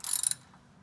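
A socket ratchet loosens the oil drain bolt on a 1995 Toyota Camry, giving a short, close burst of bright clicking that fades into quiet within a second.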